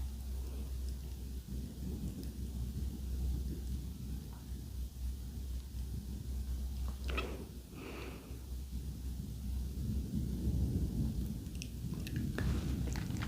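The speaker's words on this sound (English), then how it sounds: "Do you guys hear that thunder?" Low rolling thunder rumbles through steady rain across the whole stretch, a continuous soft wash with the deep rumble swelling and fading, heard alone without talk.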